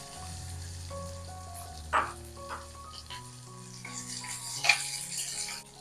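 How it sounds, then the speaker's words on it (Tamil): Bitter gourd pieces frying in oil with mustard seeds and curry leaves, a steady soft sizzle throughout with a few louder crackling bursts and utensil stirring noises, fairly close. "பாவக்காய் எண்ணெயில நல்லா வதங்கட்டும்."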